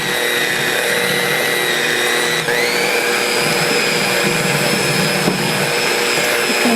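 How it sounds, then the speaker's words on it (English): An electric mixer whirs loudly and continuously as it mixes sugar and cream cheese, its motor pitch dipping briefly once under load before holding steady. "we want to mix the 1/3 cup of sugar and the cream cheese well with the electric mixer again"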